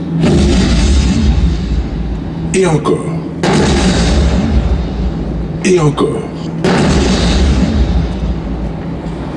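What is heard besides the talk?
firecrackers exploding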